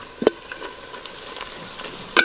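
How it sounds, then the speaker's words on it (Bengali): Chopped onions fry in a pan for mutton curry, giving a steady low sizzle with light stirring, and a sharp utensil clank near the start and again at the end. "ওদিক দিয়ে পেঁয়াজগুলো একটু ভালো করে ভাজি"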